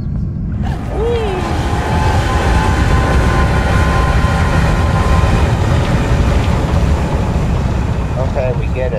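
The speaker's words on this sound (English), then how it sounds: "Okay, we get it, the train." A train in the Alice Madness Returns video game gives a loud, continuous rumble and clatter that fills the whole stretch, with faint tonal squeals riding on top.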